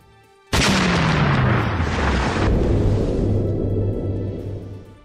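Rocket shelling of a town centre, a sudden loud explosion bursting close by and then rumbling and echoing as it slowly fades, with no talk.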